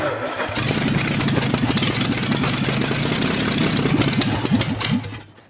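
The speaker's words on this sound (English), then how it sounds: "This is full of petrol, so ignition on." A petrol car engine with fuel primed down the intake cranks briefly and catches, settling into a loud, steady, close running rumble that holds for several seconds before cutting off at the end.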